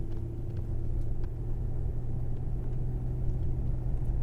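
A 2001 Toyota Celsior (Lexus LS430) drives along and shifts gears, heard from inside as a steady low engine and road rumble with a smooth, even drone and no whine, moderately quiet.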